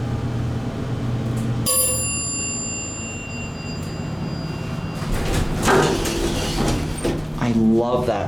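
A 1984 Dover hydraulic library elevator gives a single bright ringing chime that lingers. It is followed by the cab's mechanical rumble and door movement, and someone talks briefly near the end.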